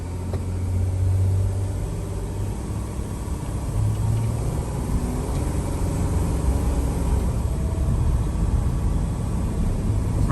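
A car drives and accelerates during a diesel particulate filter regeneration, giving a steady engine rumble and road noise that holds at a constant level throughout, with no voices.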